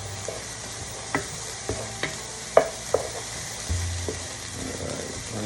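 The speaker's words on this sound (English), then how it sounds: "at the same time stirring up my onions. trying not to burn them." Onions sizzle in a frying pan for a fresh tomato sauce, with a steady hiss under sharp, irregular clacks and scrapes of a utensil stirring against the pan, close and fairly loud.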